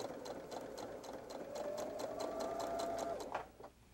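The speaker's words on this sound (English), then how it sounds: "I'm going to sew across the short end using a 1/4 inch seam allowance." A sewing machine runs steadily, stitching a 1/4 inch seam across the short end of quilting fabric for a wallet, its rapid even needle chatter close and continuous before slowing to a stop.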